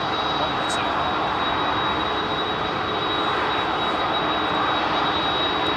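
Jet airliner powered by CF6 engines at London Heathrow, a steady broadband engine roar that holds at constant loudness throughout, with a high whine running over it and a faint voice in the background.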